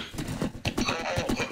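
Minecraft horse galloping, a quick rhythmic clip-clop of hoofbeats repeating several times at close range with no talk over it.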